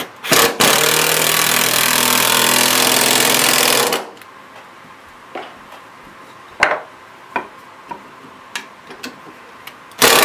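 A power driver sinks a 2.5 inch construction screw into wood with a loud, steady whirring burst lasting about four seconds, followed by quieter scattered clicks and knocks of handling the workpiece.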